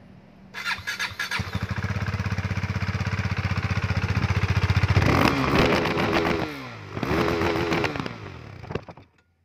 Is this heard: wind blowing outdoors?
no